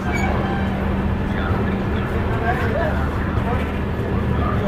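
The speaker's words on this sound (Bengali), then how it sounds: "লখনৌ জংশন থেকে আমাদের ট্রেনটি ছেড়ে দিল" A Kolkata–Indore express train pulls out of Lucknow Junction with a steady rolling rumble and rattle from inside the carriage, while voices murmur in the background.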